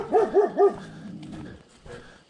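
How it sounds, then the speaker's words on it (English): A dog gives three quick, loud barks in close succession right at the start, followed by quieter room sound with no voices. "What's barking over here?"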